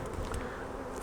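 Honey bees buzz steadily around a hive being reworked during a spring artificial swarm split, a dense, continuous hum from many insects close by with no voices.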